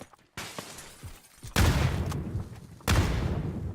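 Grenade and gunfire in a PUBG esports match, abrupt loud blasts followed by crackling bursts, with two strong hits about a second apart after quieter shots.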